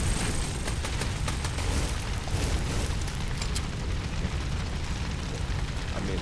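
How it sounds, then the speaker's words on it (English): Gunfire in the Fortnite video game, with dense, continuous crackling shots and booms running loud and steady through the whole stretch, no voices breaking through. "Someone's shooting on me."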